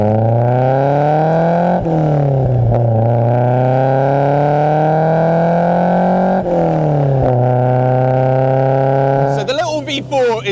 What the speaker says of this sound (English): the engine is eager, willing to work with you. It's responsive to the throttle.